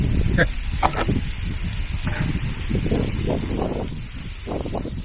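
Gusty wind blows outdoors on a fly fishing outing, buffeting the microphone with low rumbling rushes that swell and fade, while someone talks faintly underneath.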